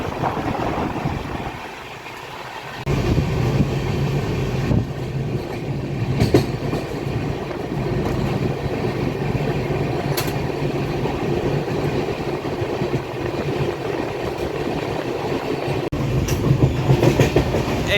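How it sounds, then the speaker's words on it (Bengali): A long coal-laden freight train rolls past a stopped or moving passenger train, a steady, close rumble of wheels on rail with clickety-clack and clattering wagons continuing throughout. "এই যে মালগাড়িটা কয়লা নিয়ে যাচ্ছে"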